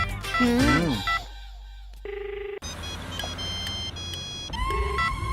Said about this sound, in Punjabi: ਫੋਨ ਤੇ ਕਰਾਉਂ ਨੂੰ ਮੈਂ।